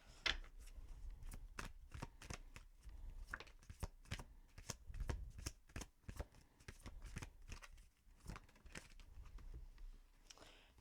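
Moonology oracle cards are shuffled by hand, giving a quiet, close run of rapid flicking and riffling bursts with short pauses between them.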